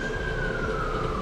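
Emergency vehicle siren wails outside a run-down New York hotel, one steady descending tone heard from a distance over a constant low traffic rumble, with no voices.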